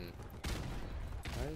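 Gunfire from a weapon in Modern Warfare Remastered team deathmatch, loud bursts of shots that open sharply and then continue steadily, with a second burst near the end.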